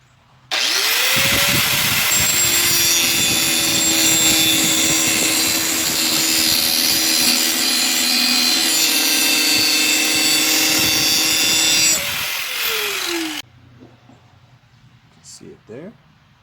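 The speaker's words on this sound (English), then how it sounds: "Inside the garage, I now have the angle grinder." An angle grinder works a rusty axe head in a garage, a loud, continuous close whine and grinding roar lasting about twelve seconds, then spinning down and stopping before a few faint clicks and handling sounds.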